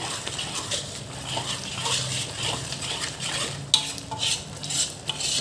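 Prawn curry stirred in a pot, a continuous close scraping and sloshing with scattered metallic clinks of the spoon against the pan, at moderate loudness, no talking.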